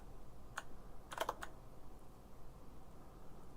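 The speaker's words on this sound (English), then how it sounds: "you guys can clearly see what I'm typing" Quiet keystrokes on a computer keyboard come as a single click and then a short cluster of taps, faint against steady background hiss.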